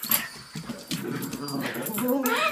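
Excited dogs whimper and whine at home with high, wavering cries over a person talking, restless and close, some yelps rising toward the end.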